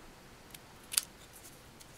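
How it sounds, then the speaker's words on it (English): Small scissors snipping a banner end into a paper strip, a single quiet crisp cut with a couple of faint clicks around it in a calm room. "Just using some small scissors."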